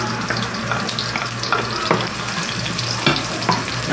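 Garlic frying in oil in a home kitchen for chicken tinola, a steady moderate sizzle with occasional stirring scrapes and light clinks, no talking.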